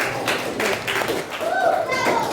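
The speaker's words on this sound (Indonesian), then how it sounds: "Oke, tepuk tangan dong untuk kelompok 1." A classroom of fifth-grade children applauds in a brisk burst of scattered clapping, with children's voices chattering over and between the claps.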